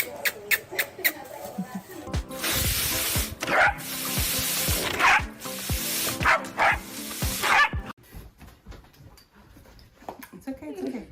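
Several dogs and puppies bark and yip in sharp bursts, with a loud stretch of overlapping barking in the middle, a few whimpers, and a person talking between them.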